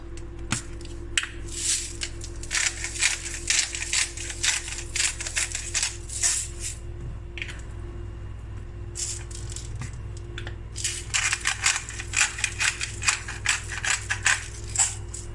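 Salt and pepper go onto a thawed, patted-dry trout fillet in close, gritty bursts of grinding and rattling crunches. The bursts come in repeated stretches with short pauses between them, and no one speaks.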